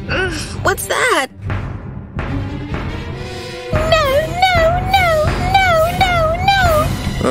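A cat meows repeatedly in a long, wavering cry, loud and close, after some brief voices and noises at the start.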